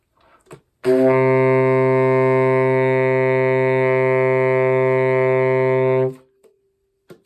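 A single low D on tenor saxophone held steadily for about five seconds, reedy and rich in harmonics, starting and stopping cleanly with silence around it.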